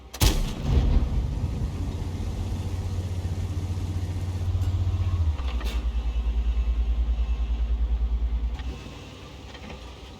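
A tank cannon fires in World of Tanks, a sharp blast at the start followed by a rumbling idling engine that shifts pitch midway, then fades after a few seconds, with no talk.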